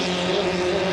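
A 2.5L hydroplane racing boat engine roars steadily at speed during a race at Valleyfield, a loud, sustained droning buzz held close for the whole moment.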